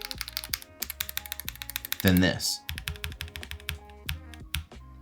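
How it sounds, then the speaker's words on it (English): Keystrokes on a Higround x Gundam Summit mechanical keyboard with an aluminum frame clatter in a quick, steady rhythm, close and fairly crisp, with a denser flurry midway and a person speaking briefly over them. "I feel like this is much more of a silent typing experience"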